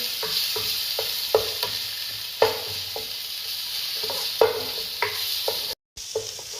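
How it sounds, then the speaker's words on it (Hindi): Garlic fries in a little oil for a chicken lasagna sauce, a continuous sizzle with repeated sharp taps and scrapes of a spoon stirring in the pan, cut briefly by a moment of silence near the end. "ये देखिए, हमारा लहसुन थोड़ा सा भून चुका है अच्छी तरीके से।"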